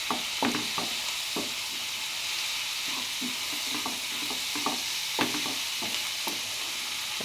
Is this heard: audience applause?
no